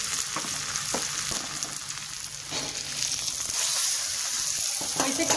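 Onions and garlic fry in hot oil while being stirred, a steady close sizzle with occasional scraping clinks of a utensil against the pan.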